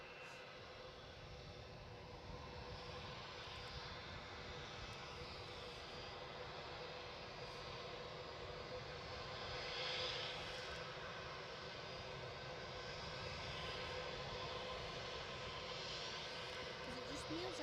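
A steady, distant aircraft engine drones at Edinburgh Airport as a plane taxis, a low continuous rumble and hiss that stays fairly constant throughout.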